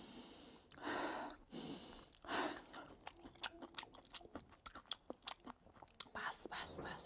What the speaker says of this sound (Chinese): 那个芥末吃了不能出气， 一直吸气